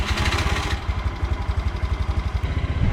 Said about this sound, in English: First turn the key, start the engine.